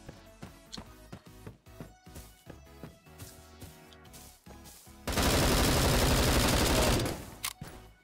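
Gunfire in the online shooter Bullet Force during a team deathmatch: a run of evenly spaced single shots, then a dense sustained burst of automatic fire lasting about two seconds, followed by a few more shots.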